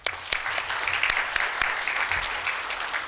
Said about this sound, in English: Please give the team big hands of applause